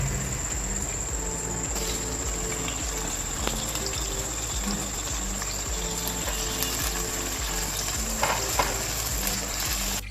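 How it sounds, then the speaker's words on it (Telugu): Chopped onions frying in a pan for a spicy chicken curry, a steady close sizzle and crackle running throughout with faint stirring scrapes and a thin high hiss, no voices. "ఒక 4 ఆనియన్స్ కట్ చేసి పెట్టుకుని ఇవి కొంచెం వేయించుకుందాం."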